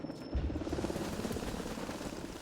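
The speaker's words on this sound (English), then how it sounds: "I hope that was the helicopter thing." Helicopter in the video game Cash Cleaner Simulator, a steady low rotor rumble that swells in after a moment and holds loud and continuous with no talk.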